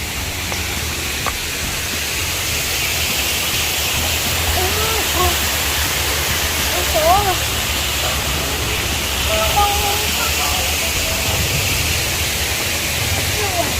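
A stream flows steadily at a Thai rest spot, making a loud, constant rushing wash with no breaks. Faint voices and birdsong sit under it.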